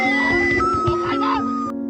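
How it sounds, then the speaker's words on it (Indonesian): A phone ringtone of a woman screaming rings out loud and close, a shrill, wavering cry that pitches up and down for nearly two seconds before cutting off abruptly. "Ponsel A berbunyi, yang ringtone-nya wanita menjerit."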